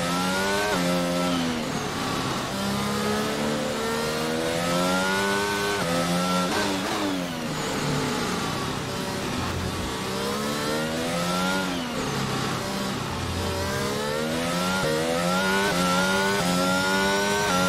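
Formula 1 car engine in the racing game F1 22 on a Miami hotlap, a loud high-pitched screaming whine rising and falling with each upshift and downshift, continuous and close throughout.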